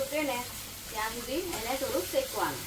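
A spice masala for stuffed bhungla potatoes roasts in a hot pan, giving a steady close sizzle and hiss while someone talks over it.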